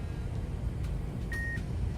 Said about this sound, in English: I hear it beeping.